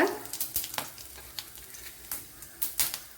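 Mustard seeds, crushed cardamom, cloves and cinnamon crackling in a tablespoon of hot coconut oil for a cauliflower curry, with quick irregular pops and sizzles close by.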